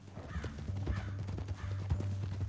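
Galloping horse hooves in a video game thud in a quick, rhythmic run of beats, moderately loud over a low, steady droning tone.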